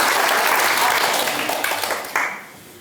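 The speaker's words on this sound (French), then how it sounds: "On peut applaudir Louis" An audience at a municipal New Year's greetings event in Badefols-d'Ans claps in sustained applause that gradually fades toward the end, with a faint voice mixed into the clapping.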